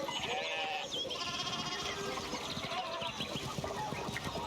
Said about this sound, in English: Don't know anything about sheep, but I probably get in their way.